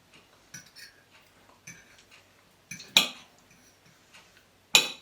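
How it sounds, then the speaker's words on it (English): A few crisp crunching cracks as cutlery breaks through the flaky pastry of a chicken and vegetable pie, with light clinks of metal on a plate between them; close and fairly quiet. "As you can hear, it's nice crisp pastry."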